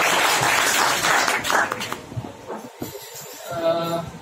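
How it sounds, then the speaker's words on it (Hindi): Applause from a kavi sammelan audience in Mandsaur, Madhya Pradesh, for a senior poet: broad, dense clapping that swells and fades over several seconds and is fairly loud, with murmuring voices mixed in. "और एक बार और उनके लिए जोरदार तालियां बजा दीजिए।"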